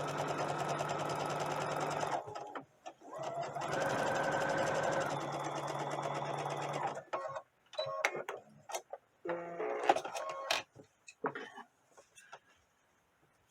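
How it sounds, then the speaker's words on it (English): A sewing machine runs a running stitch along the sleeve of doll clothes, with two sustained whirring bursts followed by shorter stop-start runs and clicks, close up, with a few faint voice sounds between. "I'm just going to run a running stitch about a 1/4 inch from the edge on the sleeve"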